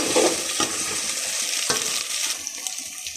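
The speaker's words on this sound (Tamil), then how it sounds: "புதினா மல்லி எல்லாம் ஒன்றா சேர்ந்து நல்லா ஆட் பண்ணி லைட்டாக 1 நிமிஷம் நல்லா வணக்கிடுவோம்." Mint and coriander leaves sizzle and hiss in a hot pan while a utensil stirs and scrapes, with a couple of sharp knocks against the pan, close and loud.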